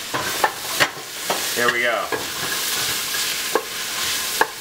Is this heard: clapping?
no